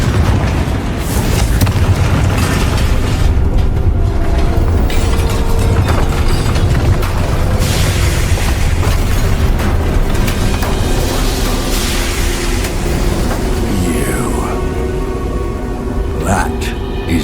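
Spell blasts in the Hogwarts Legacy video game: dense, continuous rumbling booms and crackling bursts fill the whole stretch at high loudness, with a character's voice speaking over parts of the din.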